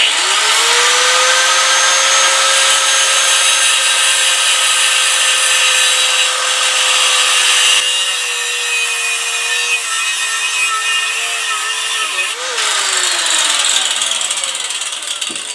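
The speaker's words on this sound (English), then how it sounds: "Angle grinders is certainly the fastest way to make these gross adjustments on a piece of high-speed steel like I'm doing here" Angle grinder shaping a piece of high-speed steel into a woodturning detail tool, a loud continuous high whine with dense abrasive grinding noise, steady throughout and dipping slightly in pitch near the end as the load changes.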